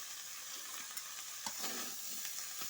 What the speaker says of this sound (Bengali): তো কিছুক্ষণ ভেজে মশলাগুলোর কাঁচা গন্ধ দূর করে নেই